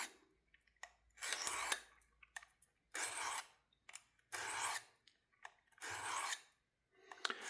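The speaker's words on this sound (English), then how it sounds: "I'm reprofiling the blade." A knife blade is reprofiled on a Work Sharp field sharpener: about five steady abrasive rasping strokes, each lasting roughly a second, with short pauses and lighter scrapes in between. The strokes are close and clear, with no talking.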